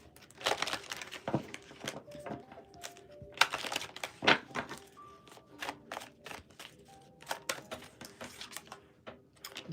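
A tarot deck is shuffled by hand in uneven bursts of papery clicks, riffles and crinkles, close and fairly quiet, with no talking.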